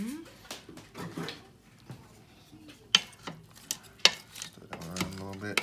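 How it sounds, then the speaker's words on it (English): A spoon stirs a shrimp low-country boil in an Instant Pot with sharp metallic scrapes and clinks against the pot, interspersed with people talking nearby. "Stir it around a little bit."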